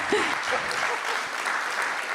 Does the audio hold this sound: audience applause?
yes